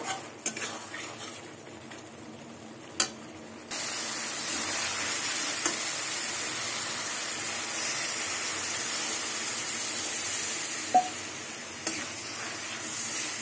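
Water poured into hot oil in a cooking pan for a Bengali raw banana and paneer curry sets off a loud, steady sizzle that starts abruptly and hisses on, with a few clinks of utensils.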